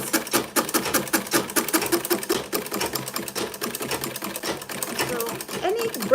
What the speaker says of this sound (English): So any brand of machine can sew this type of, can do this kind of work.